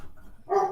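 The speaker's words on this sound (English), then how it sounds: "The dog is saying hello." A dog barks indoors during a conversation, a single short, clear bark close to the microphone after a moment of quiet room sound.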